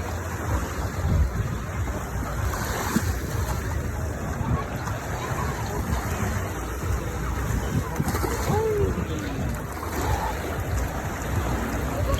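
A steady, unbroken rush of sea waves washing onto the shore, filling the air with constant hissing surf.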